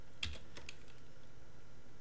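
A few quiet computer keyboard key presses at a desk, soft clicks clustered near the start over a faint steady room hiss, no voices.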